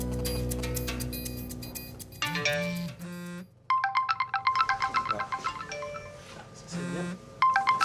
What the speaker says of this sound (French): En moins de 30 secondes, les 7 téléphones témoins reçoivent le texto piégé.